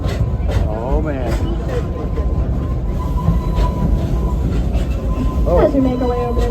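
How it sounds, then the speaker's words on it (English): Train rolling over a trestle at the Silver Dollar City theme park, a steady rumble and clatter close by that runs the whole time, with someone talking over it and a short horn-like tone near the end. "As we make our way over this train trestle,"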